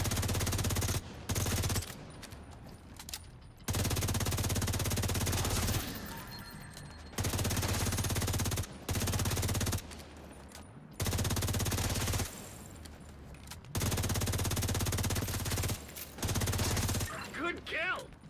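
Video game gunfire fills repeated long bursts of rapid automatic shots, broken by short gaps, while a player aims for a headshot; the shooting is steady and fairly loud with little else over it.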